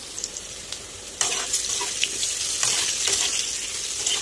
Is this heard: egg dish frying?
yes